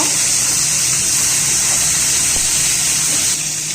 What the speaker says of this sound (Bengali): তেল গরম হয়ে গেছে, মাছগুলো আমি হালকা ভেজে নেব।